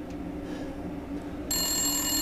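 Telephone ringing in the Resident Evil Village video game, a steady electronic ring starting abruptly partway through over a low ambient game background, with no talking.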